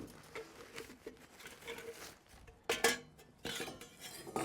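Metal parts of a camping kettle kit with a fire base and hobo stove accessory clink and rattle as they are handled, giving soft irregular taps and a couple of sharper metallic knocks nearby without speech.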